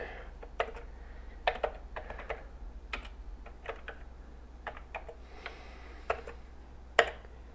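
Keys tapped on a Timex Sinclair 1000 keyboard while a short BASIC program is entered, irregular clicks and taps at an uneven pace over a low steady hum, close up, with no voices.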